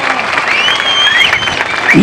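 Crowd applause at a political meeting in Nagarkurnool, a steady dense clapping sustained across the whole clip with no lull, fairly loud and close.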